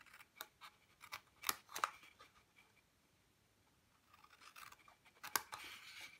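Scissors make faint, quick snips through paper at the folds of a handmade gift pouch, in a few short clusters separated by quiet pauses.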